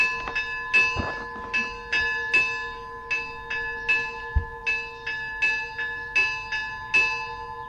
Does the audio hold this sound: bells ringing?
yes